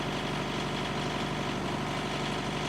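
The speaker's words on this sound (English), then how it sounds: "right now the diesel engine is starting" A 2013 Thermo King S-700 reefer unit's diesel engine runs at a steady idle, a constant low rumble with faint vibration that stays even and continuous throughout, with no talking over it.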